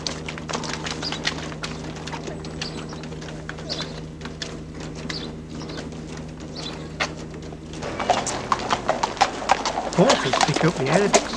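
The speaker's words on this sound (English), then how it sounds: "Horses pick up the air of excitement as they arrive and trot down the aisle." Horses trotting down an aisle at the Yorkshire Show, agricultural show setting, with rhythmic hoof clip-clop on a hard floor under narration and crowd bustle, busier and louder toward the end.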